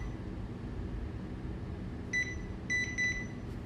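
A kitchen appliance gives a few short electronic beeps, one then two close together, over a steady loud background hum.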